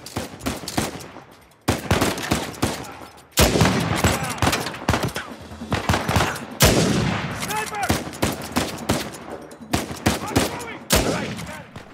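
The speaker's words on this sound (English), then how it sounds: "Shot, going in with a sniper rifle." Sniper rifle fire in the video game Uncharted 4, a rapid series of loud, sharp gunshots with echoing tails, spaced a second or two apart over a busy battle backdrop.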